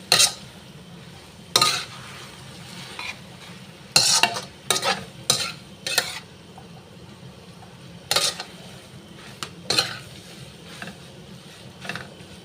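Prawn mee noodles being stirred into vegetables in a hot pan, with repeated scraping, clattering utensil strokes at an uneven rhythm over a low background sizzle. The sound is close by and there is no talking.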